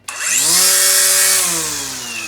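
A Dewalt FlexVolt brushless battery string trimmer spins up with a sharp start and holds a loud, steady whine, its pitch rising then settling, close to the listener with no talk.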